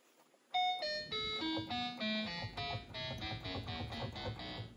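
Synthesizer driven by a homemade MIDI-CV/Gate converter switched to Hz/V mode, playing a run of about a dozen short bright beeping tones whose pitches jump erratically up and down, clear and close.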